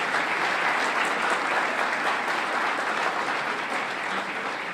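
Sustained audience applause in a hall at a community organization's annual meeting, a dense, even wash of many hands clapping, loud and steady throughout.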